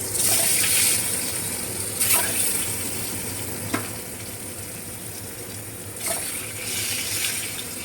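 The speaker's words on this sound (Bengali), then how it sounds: "এবার ডিমগুলো লাল লাল করে একটু সামান্য ভেজে নেব" Eggs frying in hot oil for a home-cooked biryani give a steady, close sizzle, with a few brighter crackling bursts breaking through the hiss.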